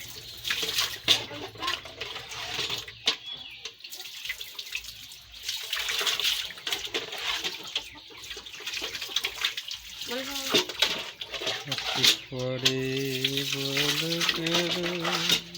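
Water runs and splashes steadily from a village tap or bathing spot, continuing under nearby talking voices, with a person's singing or calling rising toward the end.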